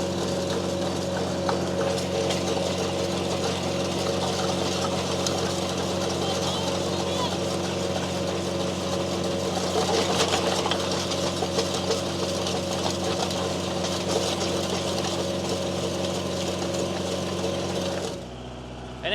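A vehicle stuck in loose gravel revs steadily with its wheels spinning, a continuous droning engine note holding for most of the span before dropping off near the end, with voices talking over it.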